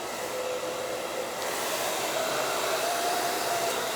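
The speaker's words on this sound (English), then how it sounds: "This is an Elchim blow dryer." An Elchim blow dryer runs continuously with a steady, loud whooshing roar and a faint high whine, no talking.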